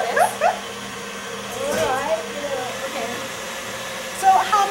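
An electric mixer whisks egg whites toward stiff peaks for a flourless chocolate log, a steady motor whir running under a person talking throughout.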